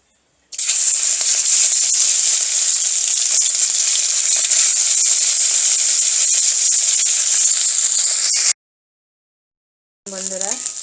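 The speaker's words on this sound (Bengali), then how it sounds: "মাছটাকে এবার ভেজে নেব।" Sole fish frying in hot oil with yellow-turmeric coating, a steady loud sizzling hiss lasting several seconds, then a brief silence before sizzling resumes with a voice over it.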